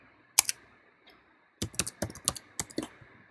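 Keys clack on a computer keyboard as details are typed into a login form, with a couple of isolated taps and then a quick run of crisp, close keystrokes.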